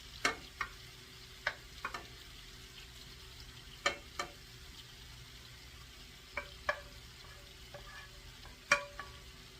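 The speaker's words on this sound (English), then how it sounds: "I'm going to add my shrimp into here to get them to cook." Peeled shrimp go into a skillet with cooking wine, garlic and green onions, giving a faint, quiet sizzle broken by scattered light clicks and taps of a utensil against the pan, without talk.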